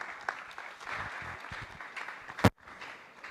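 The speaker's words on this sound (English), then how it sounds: "I think that applause can be better, ladies and gentlemen" An audience at a live training lecture gives a steady round of applause, a soft even patter of many hands at moderate distance that cuts off sharply near the end.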